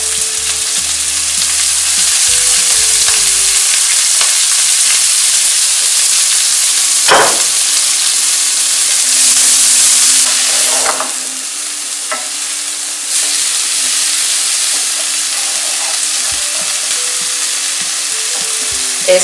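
Garlic and spinach fry in a pan with a loud, steady sizzle and hiss. Intermittent scraping and clanks of stirring sound close by.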